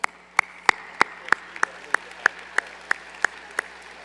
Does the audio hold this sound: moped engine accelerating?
no